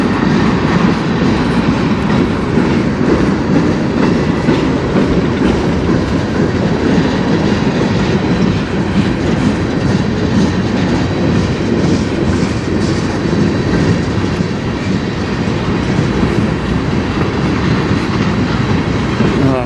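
A CN freight train rolls past close by on the Strathroy Sub near Sarnia, a steady loud rumble of wheels and cars with clickety-clack over the rail joints running the whole time.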